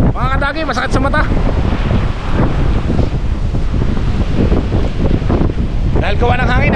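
Strong typhoon wind buffets the microphone in a loud, continuous roaring rush, with a person's voice heard at the start and again near the end.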